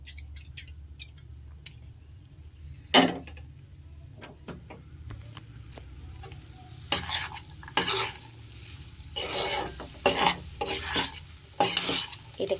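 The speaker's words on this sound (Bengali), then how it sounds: "এটাকে একটু নাড়াচাড়া দিয়ে ভালো করে একটু কষিয়ে নিয়ে দেখুন আমি ভালো করে নেড়েচেড়ে নিয়েছি।" Masala for a Bengali egg curry being stirred and fried in a pan, with a steady low sizzle broken by sharp scraping clinks of a utensil against the pot, busier toward the end, and no talking.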